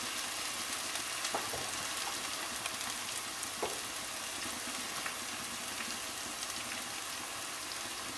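Ground spices, including turmeric, fry in oil in a pan over lowered heat, giving a steady close hissing sizzle with faint crackles throughout.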